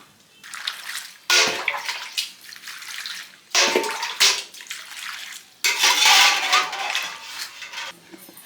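Bael fruit being rinsed with water in a pot in a village kitchen: repeated bursts of splashing and sloshing, each swell starting abruptly and trailing off, with faint clinks of the pot between.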